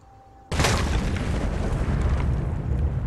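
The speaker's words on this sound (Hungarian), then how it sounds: "Hát robbantás jön megint, nem tudok mit csinálni." Sudden loud explosion in the survival video game Last Day on Earth, a sharp blast followed by a long, dense rumbling roar that fills the remaining seconds.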